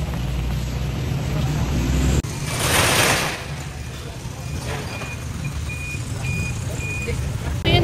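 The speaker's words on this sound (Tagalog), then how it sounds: "Ang lakas ng ulan." Heavy rain pours down around a vehicle parked at a tricycle stand, a dense steady hiss broken by one louder burst, with a faint repeating electronic beep in the background.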